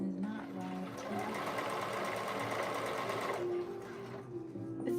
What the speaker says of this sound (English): this sewing machine